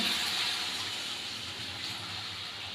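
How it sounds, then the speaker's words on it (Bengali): Water pours into a pan of fish curry with taro, potato, eggplant and katla fish, making a continuous rushing gush for a few seconds that slowly eases off. "এবার আমি জল দিয়ে দিলাম।"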